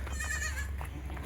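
Faint bleats from pregnant goats at a goat sale over a low steady hum, a short wavering cry or two heard at a moderate distance.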